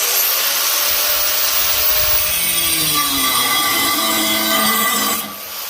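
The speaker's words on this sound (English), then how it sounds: "All right, first off, the old grinder." An old angle grinder runs at full speed in one steady, loud whine with a faint pitch sag midway as it bogs slightly under load, then winds down near the end.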